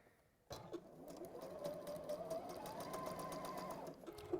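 A sewing machine starts after a brief quiet and runs at a steady, rapid stitching rhythm, pushing through layers of fabric for a bird cushion, close and moderately quiet with a soft mechanical whir.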